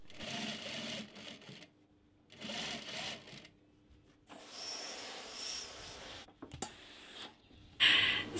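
A sewing machine runs in several short bursts with pauses between them, stitching bias tape onto the hem of a gathered sleeve, close and clear with no talk.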